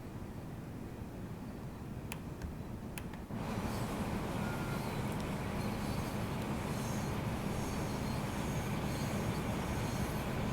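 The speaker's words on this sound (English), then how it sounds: "Ah, there's a train leaving." A train departs in the Train Sim World 3 simulator on the Great Western line, a steady rolling rumble of rail noise that jumps louder after a few seconds and continues evenly, with faint clicks early on.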